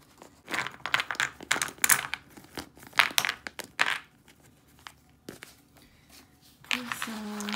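A small canvas-and-plastic craft bag crinkles and rustles in bursts of crisp crunching and rubbing. The handling sounds are close and fairly loud and come in irregular clusters, with a quieter gap before a steadier low hum at the end.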